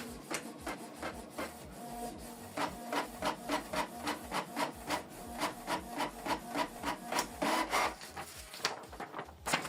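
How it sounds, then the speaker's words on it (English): A Canon Pixma TS3350 inkjet printer prints a test page, its print head sliding back and forth in a quick rhythmic series of scraping, rasping passes, close and loud with no speech. "So select print test page. So the document is going to print."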